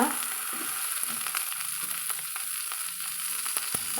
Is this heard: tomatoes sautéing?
yes